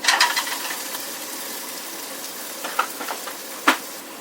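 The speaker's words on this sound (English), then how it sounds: "next I'm going to just pop in the meat and let that cook" Meat frying in a pan, a soft steady sizzle after a brief louder crackle at the start, with a couple of quick clatters near the end.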